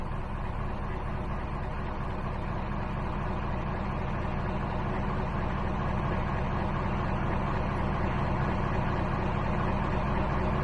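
A truck's diesel engine idles at low speed, heard from inside its sound-insulated cabin: a steady, even low rumble holding constant without pauses or voices.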